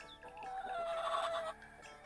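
Farm chickens, among them white Silkies and a rooster, cluck close by in a short, fairly quiet burst of fowl calls with no talking.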